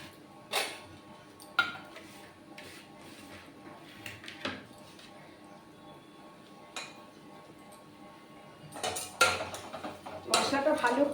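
Whole spices such as cloves and cinnamon are stirred and fried in a pot, a metal spoon clinking and scraping against the sides in scattered knocks, louder toward the end.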